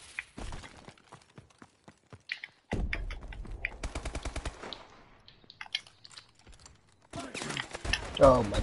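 Call of Duty Advanced Warfare gunfire during an online match: scattered single shots, then a sustained rapid automatic burst, a quieter stretch, and more loud firing at the end, with a voice speaking briefly.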